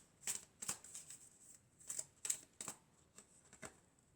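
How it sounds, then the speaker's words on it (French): Tarot cards handled and drawn from the deck during a general and romantic guidance reading: a handful of soft, crisp papery flicks and slides spaced irregularly, quiet and close, with no voices. "Alors on va prendre une dernière carte."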